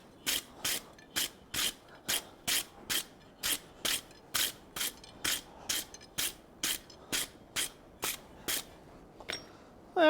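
A wire brush scrubs a forged iron trivet piece in steady, rhythmic strokes, about seventeen loud raspy scrapes evenly spaced and close up, with no voices.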